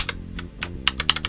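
Keystrokes on a Cooler Master CK721, a 65% three-mode wireless keyboard with a knob: a quick, uneven run of close, crisp clicks and clacks, with no talking.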